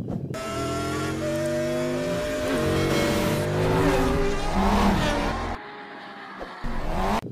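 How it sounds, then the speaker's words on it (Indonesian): Toy McQueen race car playing a car sound effect, a loud continuous engine-like whine with rising revving tones and squeal, then a brief drop before resuming, with no talking. "mobil balap McQueen"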